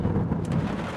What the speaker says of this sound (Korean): 빗소리 들리시죠?